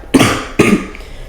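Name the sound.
cough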